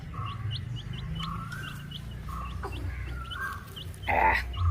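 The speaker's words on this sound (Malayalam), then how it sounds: "നമ്മുടെ കോഴി കുഞ്ഞിനൊക്കെ രാവിലെ ഇറക്കി വിട്ടിട്ടുണ്ട് ഇവിടെ" Small chicks peep in quick, repeated high chirps, with a louder bird call near the end over a faint outdoor background.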